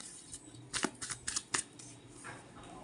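Tarot cards being drawn and slid from a deck, a quiet cluster of soft papery snaps and flicks in quick succession, close and faint against a hushed background.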